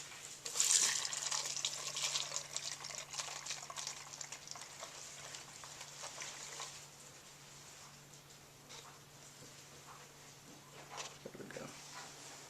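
Clear coat poured into the cup of a paint spray gun during a carbon fiber hood repair gives a close, trickling liquid pour for about seven seconds, then thins to a faint, quiet tail.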